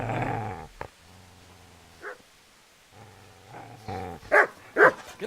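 A dog in the medieval video game Kingdom Come: Deliverance growls low and steadily, then lets out sharp, loud barks near the end, close by with little else around.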